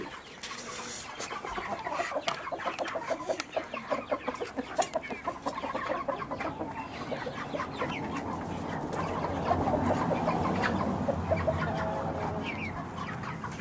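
Kuban-breed hens and roosters cluck steadily and fairly close, a busy overlapping chorus of short calls with a louder stretch toward the end, no one speaking.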